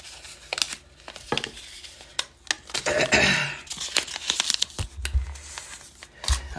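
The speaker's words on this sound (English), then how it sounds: "Fold the money towards you." A paper money bill is folded by hand, giving close, crisp crinkles and sharp rustling snaps in short, irregular bursts.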